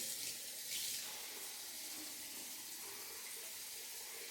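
Steady rush of running water splashing over sea moss being rinsed, continuous and fairly close, with no talking.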